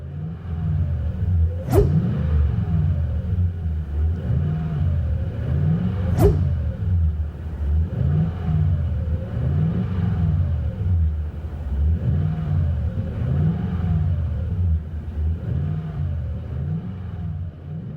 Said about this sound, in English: interior tone level is mild with this Magnaflow dual to single 3-inch exhaust